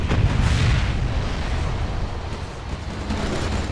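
A thunderous, rumbling sonic boom from an Aurora bomber in Command & Conquer Generals Zero Hour, a heavy low-end blast that peaks early and then rolls off into a sustained roar.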